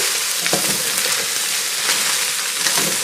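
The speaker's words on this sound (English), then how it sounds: "I'm going to give this a stir" Cabbage roll soup gets stirred in a pot, a close, fairly loud wet sizzling swish with a few scraping strokes of the spoon, alone without talk.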